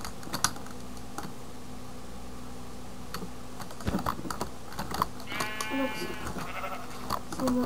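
A sheep in the Minecraft video game gives a single short bleat midway through, under steady computer keyboard typing and faint background game sounds.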